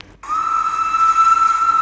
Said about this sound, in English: There's that whistle again.